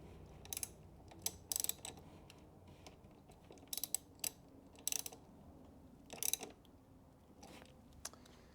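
A ratchet snugs a bolt down on a Subaru WRX/STI LED fog light bezel, giving scattered short bursts of crisp clicks, close but fairly quiet, with pauses between strokes.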